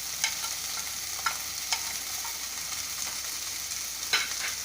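Baby potato biryani with biryani masala, red chilli powder and coriander powder is stirred in a hot pan, a soft continuous sizzle with occasional light scrapes and taps of the spoon.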